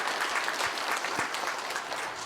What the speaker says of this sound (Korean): 찬양대 오케스트라 한번 감사의 박수, 축복의 박수 합니다.